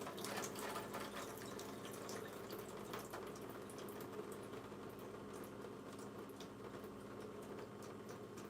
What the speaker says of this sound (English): So I like to take water and let it run through the lettuce heads of the lettuce like that.